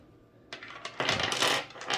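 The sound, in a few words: ice dice dumped out of an ice cube tray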